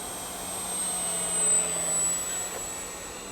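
An FMS J-3 Piper Cub RC model plane, a scale electric model, flies gently with a faint, steady motor whine and soft airy hiss, holding an even level with a slight swell midway.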